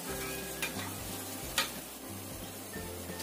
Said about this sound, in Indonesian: Goreng sampai kering.